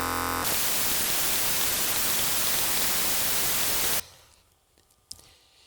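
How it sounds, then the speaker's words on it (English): A DTS surround bitstream played back as plain stereo PCM, a loud, steady wash of harsh static noise that cuts off abruptly and leaves a faint hum with a small click. "what would happen if you were to listen to the stereo bit stream?"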